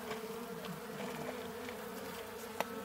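Bees buzzing softly around a hive being cleared of roaches, a faint continuous hum with one brief click near the end.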